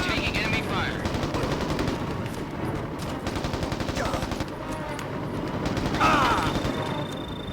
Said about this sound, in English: I am taking enemy fire.